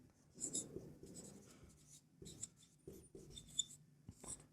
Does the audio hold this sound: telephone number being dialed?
no